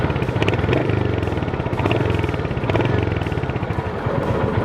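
Royal Enfield Hunter 350 motorcycle idling close by, a steady low engine thump with rattly exhaust pulses running throughout, no talking over it.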